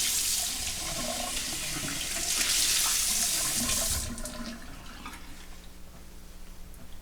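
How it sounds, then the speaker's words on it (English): Tap water runs into a sink over a shaving brush, a close, loud splashing rush that swells in the middle and then drops to a lighter trickle toward the end. "When it cools off, just place it back under the water"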